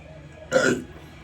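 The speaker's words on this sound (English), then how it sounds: "I wanted to hug you and you going belch in my face." A single short belch bursts out close and loud for about a third of a second, standing alone against a quiet room.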